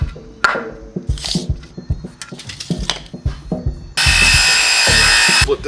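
A power tool cuts screws off during suspension work on a 1986 Nissan 300ZX. Scattered metallic knocks and clanks give way to a loud, steady grinding roar that runs through the final couple of seconds.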